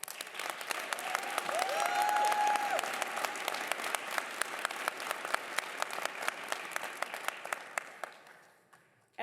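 Audience at a 2022 commencement ceremony breaks into sustained applause, a dense wash of clapping that swells, holds steady, then thins out and fades near the end.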